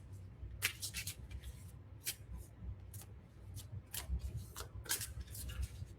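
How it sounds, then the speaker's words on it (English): Tarot cards are shuffled by hand in quiet, irregular papery flutters and soft rubbing swishes, close and faint, with no voices. "For some reason, Aquarius needs an extra little shuffle."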